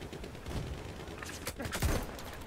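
Gunfire in Battlefield 1, a few sharp shots and short bursts against a busy battlefield din, with a loud thump near the end and faint voices underneath.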